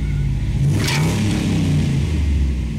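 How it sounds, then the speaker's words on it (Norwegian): An SUV engine revs hard and close, a loud continuous mid-range roar with rising and falling pitch and no talk over it. "Skru av den motoren, sa jeg."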